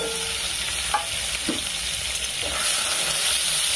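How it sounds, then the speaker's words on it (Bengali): Whole prawns fry in a pan with a steady, even sizzle, and a few faint stirring clicks sit under the crackle. "এই চিংড়িটা আমি প্রথম ভেজে নেবো,"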